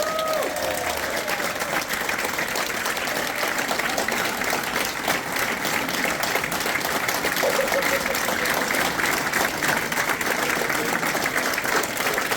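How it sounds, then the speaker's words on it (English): A room of supporters at a Burton Albion fan forum gives new head coach Gary Bowyer a sustained round of applause. The steady, dense clapping from many hands fills the space at an even level throughout. "Came into the room to a decent round of applause"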